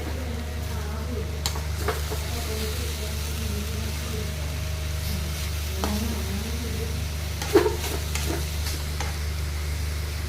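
Beetroot thoran is stirred in a pan, soft scraping and occasional clacks of the spoon over a faint sizzle and a low steady hum.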